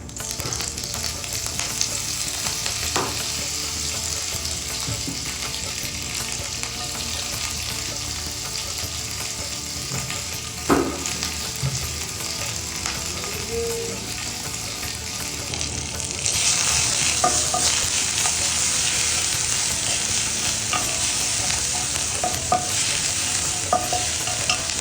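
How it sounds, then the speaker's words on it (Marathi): Tempering spices sizzling and crackling in hot oil in a pan, a steady loud frying hiss throughout with occasional pops and stirring clinks, the sizzle intensifying partway through. "आता आपण फोडणी देऊया."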